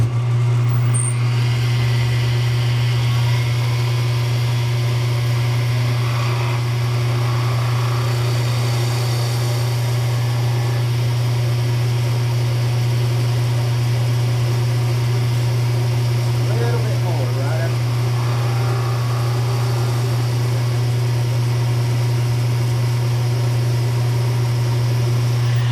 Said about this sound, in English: I'll turn the lathe on.